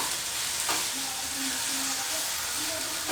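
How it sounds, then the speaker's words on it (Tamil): Okra sizzles and fries in a pan over slow heat while being stirred, giving a steady close hiss with a scraping stir near the start. "அப்படியே மெதுவாக ஸ்லோ ஹீட்டில் வச்சுட்டு நீங்கள் அப்படியே ஸ்டர் பண்ணிட்டே இருந்தீங்கன்னா"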